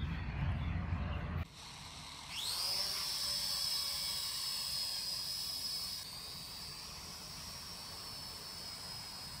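A cheap camera drone lifts off and flies, its rotors spinning up from a thump into a high, steady whine that holds, then drops slightly in level as it climbs away.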